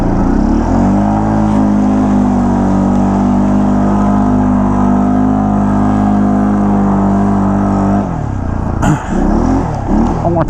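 An off-road vehicle on a snow-and-dirt trail run drives through a mud hole, its engine droning loud and close in a steady rumble that shifts and sputters near the end.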